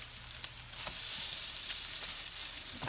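Breadcrumbed salmon cakes fry in a shallow layer of oil, making a steady close sizzle with small pops and crackles scattered throughout.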